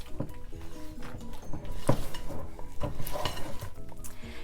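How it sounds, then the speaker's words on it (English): Beaten eggs are worked into creamed butter-and-sugar cookie dough, with a utensil clacking and scraping rhythmically against the bowl and one sharp knock near the middle. "Now we're going to add 2 beaten eggs. Mix that together."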